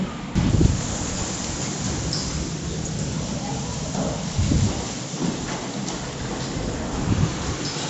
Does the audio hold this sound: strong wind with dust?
yes